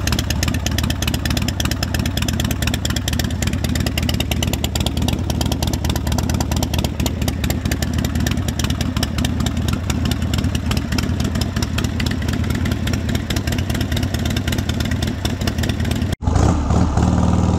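A 1997 Harley Davidson Sportster XL1200S engine runs at a steady, close, loud idle, its uneven pulsing lope continuing for a long stretch before a brief break near the end.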